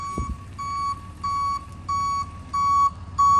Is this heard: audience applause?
no